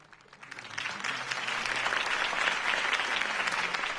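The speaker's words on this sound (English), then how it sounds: "could have heard that applause" Crowd applause in a Batman video game swells up after a political campaign speech, rising from quiet to a full, steady roar of clapping that carries on to the end.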